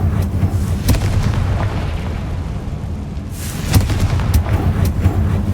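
A Confringo fire spell blasts in the Hogwarts Legacy video game with loud booming bursts over a constant low rumble, one hit near the start and a cluster of sharp explosions later, with no talk.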